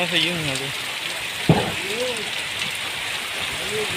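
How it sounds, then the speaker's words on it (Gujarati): Heavy rain falls steadily over a farm field where cut millet lies, a loud constant hiss with a few faint voices and a single knock beneath it. "વરસાદ રોકવાનું નામ લેતો નથી"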